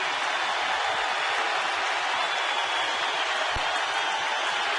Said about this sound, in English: Crowd kicks up the volume.